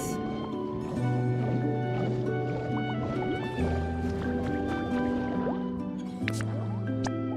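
Water being collected in the Pokopia game, with bubbly dripping and squishing liquid sounds over a layer of soft tonal game music, steady and moderately loud.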